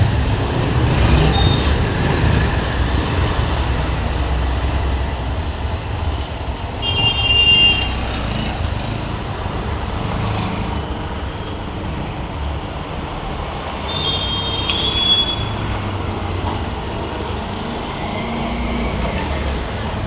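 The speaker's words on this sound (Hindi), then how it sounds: "तो पहले एक बार इसकी राइड ले लेता हूँ" A Bajaj Pulsar 125 NS new-model motorcycle being ridden, a steady engine and road rumble with wind noise, moderately loud and continuous, rising slightly in places with no talking.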